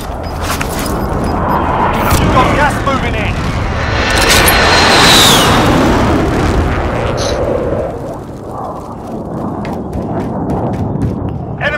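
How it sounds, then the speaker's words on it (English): Precision airstrike explosions in Call of Duty: Modern Warfare rumble and boom loudly in a rolling swell, with aircraft-like roar, as players talk throughout. "Enemy precision airstrike, take cover!"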